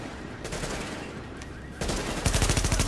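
Enemy gunfire in the video game The Division: rapid automatic bursts that grow louder and denser toward the end, sharp repeated cracks over a rumbling game background.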